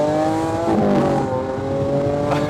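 A Lamborghini Aventador V12 screams at high RPM, a loud, close, sustained howl with harmonic tones sliding up and down as it revs and shifts.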